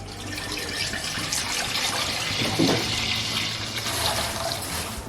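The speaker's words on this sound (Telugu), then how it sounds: "ఇలా గిన్నె పెట్టుకున్నాను అర లీటర్ పాలండి ఇవి పాలు పోస్తాం" Half a litre of milk poured into a cooking pot for a Ganesh Chaturthi sweet gives a steady liquid gush and splash, running continuously and close for about five seconds with no talking.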